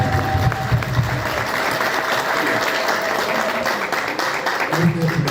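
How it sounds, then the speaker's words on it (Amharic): A crowd applauding steadily and loudly at a gathering honouring an artist, sustained clapping throughout with a voice faintly audible underneath. "ለወንድማችን አዶናይ ከፍ ያለ ጭብጨባ እናመሰግናለን"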